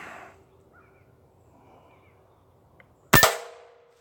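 A single sharp air gun shot at 30 yards cracks out loud and close after a quiet stretch, with a short ringing tail.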